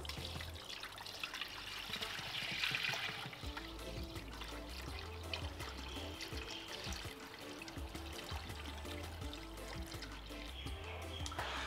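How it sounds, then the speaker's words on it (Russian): Cold water is poured into a pot for Uzbek oxtail soup (shurpa), a faint steady trickle and splash that runs the whole time with a low kitchen hum beneath. "Добавляем холодной воды."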